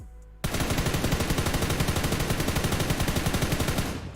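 Rapid automatic gunfire from PUBG New State, a steady stream of loud, evenly spaced shots firing continuously for several seconds after a brief quiet start, no talking.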